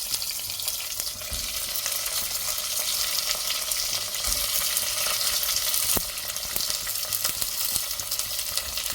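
Onions fry in hot oil with whole coriander seeds and spices, giving a dense, continuous, close sizzle with faint scattered crackles throughout and no speech.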